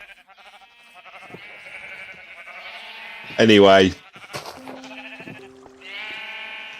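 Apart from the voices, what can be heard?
sheep bleating in Minecraft video game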